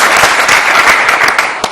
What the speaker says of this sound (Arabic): تصفيقة حارة